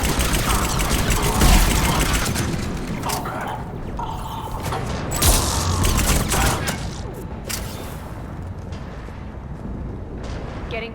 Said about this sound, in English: Getting close. Those cannons have to be stopped.